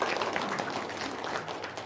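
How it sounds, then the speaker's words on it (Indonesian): Brief, steady applause from an audience at a talk or seminar, a dense wash of clapping throughout with no break. "tepuk tangan dong"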